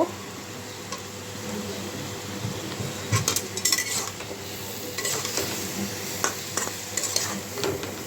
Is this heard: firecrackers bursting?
no